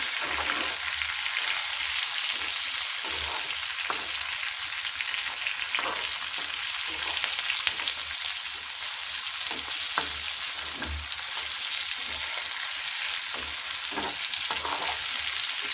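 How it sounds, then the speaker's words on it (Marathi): Stuffed green chillies and lemon sauté in a pan, giving a dense, steady hiss of frying oil with scattered soft pops and occasional spatula knocks, close and unbroken. "आणि मस्त असं परतून घेऊया"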